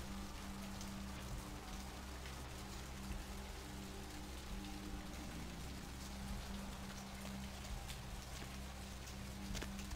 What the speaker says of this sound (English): It's a nice night in Santa Monica. A little bit of rain.